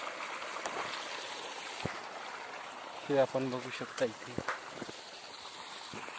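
Soft, steady flow of water running through an irrigation channel to a maize crop in the background while someone speaks over it briefly.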